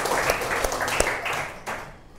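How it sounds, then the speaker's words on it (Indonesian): An audience claps briefly at an educational session on the Indonesian rupiah, a short, steady burst of mixed hand claps fading out after about two seconds. "tepuk tangan dulu"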